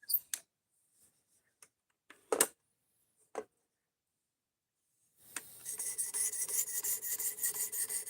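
S90V steel blade of a Benchmade Mini Bedlam knife drawn across sharpening stones: a few isolated clicks and scrapes, then a continuous, close, rhythmic rasping stroke pattern, with no talking.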